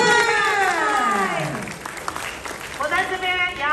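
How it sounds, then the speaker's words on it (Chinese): Applause and crowd noise rise from an audience at the opening event for an indigenous digital culture learning center in Kaohsiung, with voices speaking loudly over it. "我们给自己打告一个掌声好不好？ 掌声。"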